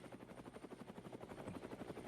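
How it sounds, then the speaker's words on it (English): A large helicopter circles overhead near a radio station in Eden Prairie. Its rotor makes a steady rhythmic thumping that is faint and distant throughout, and no one speaks. "There's a large helicopter circling around the AM950 radio station here at Eden Prairie."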